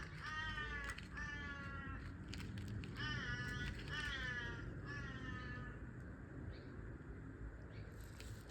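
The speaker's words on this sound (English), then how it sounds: "Oh, those crows." Crows caw in a series of harsh, repeated calls in short bursts, fairly close, over a steady background hiss, then trail off into quieter distant caws.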